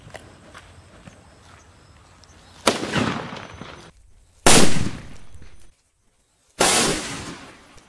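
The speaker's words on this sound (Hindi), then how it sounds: "तो इसको टेस्ट करते हैं और देखते हैं इसका साउंड कितना आता है।" Three loud sutli bomb firecrackers blast one after another during Diwali testing, each a sharp broadband explosion trailing into a decaying crackle, with low background noise between them.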